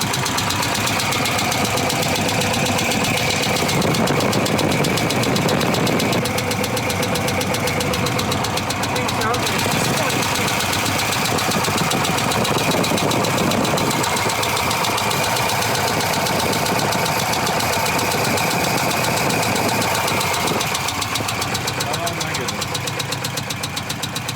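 An old Volvo 240 engine revs loudly and steadily with a rough, knocking mechanical clatter, holding a dense drone throughout with little change in level.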